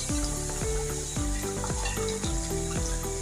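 Peas are tipped into a hot pan of mixed vegetables and sizzle softly, with a quick run of repeated scraping or stirring strokes over the frying.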